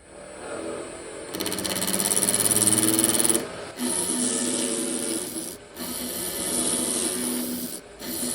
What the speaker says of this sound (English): I'm going to stick this on the lathe.